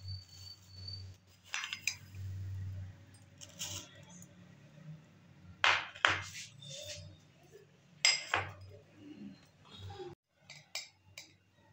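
Fenugreek seeds spooned into a container, soft clinks and rattles of a metal spoon against the vessel in scattered bursts, fairly quiet in a still room.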